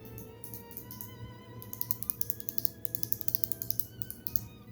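The S Pen of a Samsung Galaxy Note 20 Ultra clicks in a quick, uneven series of sharp taps that thicken toward the middle and end, near and crisp over a faint background hum.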